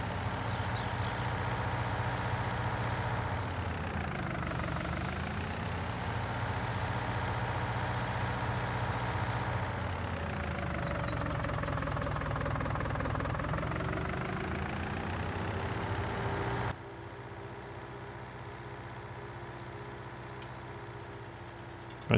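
A small tractor engine runs at a steady idle in Farming Simulator 19, its rumble rising and falling in pitch a few times before dropping abruptly to a quieter hum near the end, with no talk.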